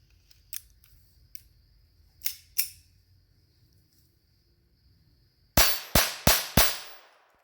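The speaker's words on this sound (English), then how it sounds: "We're going to dump a few mags of it into the gong to see how it cycles" Sharp .22 LR rifle shots from CCI Velocitor ammunition, a few quieter cracks early on, then four loud closely spaced reports near the end, each with a short ringing decay as if striking a steel gong.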